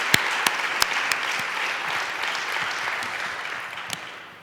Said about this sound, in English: Please give him and the sponsors a round of applause.